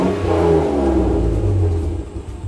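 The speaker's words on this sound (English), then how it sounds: "You give it a rev" A BMW E46 drift build's engine is revved, a loud close rumble swelling and holding under throttle before starting to ease off, with no voices over it.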